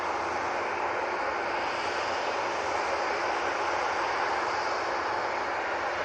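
An EasyJet airliner at Manchester Airport, a loud, steady broadband jet engine roar that holds unchanged throughout, with no voices.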